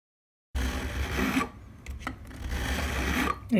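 A file rasps across the fret ends of a 2019 Gibson Les Paul 60's Standard, shaping chamfers in close, scratchy strokes that pause briefly between passes.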